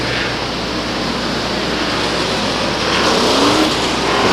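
An ACT race car running practice laps at Waterford Speedbowl, its engine a steady loud drone that builds slightly toward the end, heard from trackside with no talking.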